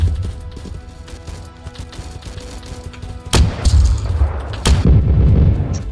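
Gunfire in the Vietnam War video game Rolling Thunder, with a steady low rumble of game sound building to louder bursts of shots and booms in the second half.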